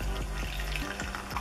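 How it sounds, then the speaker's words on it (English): Steaming, burning-hot tea poured fresh off the stove makes a short, steady splashing trickle of liquid into a cup, with a few light clinks, close and moderately loud. "So we're gonna pour some of that in here."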